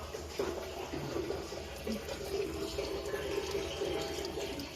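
Oil mixed with water drains out of an engine in a steady, continuous splashing gush. The liquid stream sounds near and fairly loud throughout, with no talk over it.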